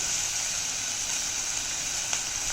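Bitter gourd with turmeric, asafoetida and salt sautéing in a pan, giving a steady, even hissing sizzle throughout, close and moderate in level, with one brief tick near the end.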